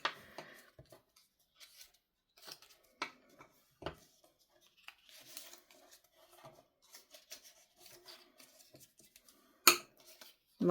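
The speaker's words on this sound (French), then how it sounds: "vous marquez tous les plis sur les autres morceaux" Quiet scraping and rubbing strokes as fold lines are scored into pieces of paper for a small guest gift box, with scattered soft taps and one sharp knock near the end, no talking.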